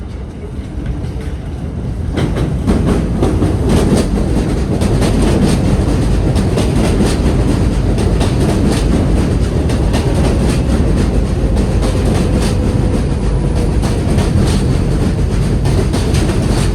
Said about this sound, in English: There is a Manhattan-bound Local 7 train to 34th Street, Hudson Yards. Approaching the station,